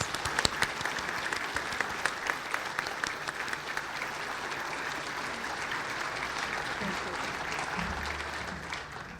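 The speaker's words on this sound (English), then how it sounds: "Let's give them a round of applause." Sustained audience applause at a monthly HASP organization program, dense steady clapping from many hands filling the room with no break, a few louder individual claps standing out near the start.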